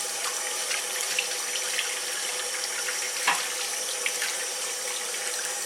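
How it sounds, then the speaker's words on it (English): Tap water runs steadily into a sink while cast iron skillets are scrubbed with SOS pads after an oven-cleaner treatment, making a constant close hiss with faint scraping clicks and no voices. "I'm just going to use SOS pads and scrub them."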